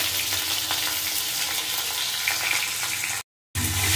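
Four pieces of tomato with salt frying in a pan, giving a loud, continuous close-up sizzle with stirring scrapes, cut by a brief moment of silence near the end.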